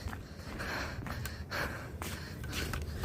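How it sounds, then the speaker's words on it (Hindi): Heavy, rhythmic breathing with repeated sharp gasps and huffs, close to the microphone, as someone pants hard after running. "हाँफना और भाग कर फिर हाँफना"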